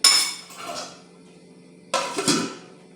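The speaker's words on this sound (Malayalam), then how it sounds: "ഇനി ഇളക്കി മൂടി വെച്ച് വേവിക്കാം" A cooking pot of ripe mango pulissery is stirred and covered, giving sharp metallic clinks and scrapes of a utensil against the pot, then a second clattering clank as the lid goes on, close and clear.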